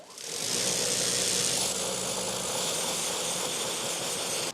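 A Makita battery-powered pressure washer starts up and then runs with a steady, loud motor-and-pump drone and hissing spray that holds without a break and cuts off sharply at the end.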